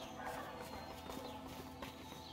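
Horse hooves clip-clop in the video game A Way Out, a faint, steady walking rhythm of hoofbeats under a busy background of ambient game sound.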